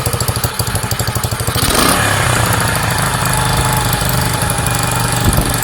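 A Sinnis SC125 motorcycle engine running on a replacement carburettor, loud and close, with a steady throbbing idle that jumps into a higher, sustained rev partway through and holds there without settling.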